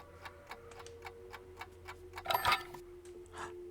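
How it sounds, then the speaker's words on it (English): Steady, regular ticking of an alarm clock in Alan Wake Remastered, close and fairly quiet, with a brief louder clattering burst partway through. "Electrical alarm clocks."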